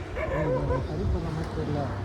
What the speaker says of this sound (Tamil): நாய் தானே குலைச்சிட்டு இருக்கு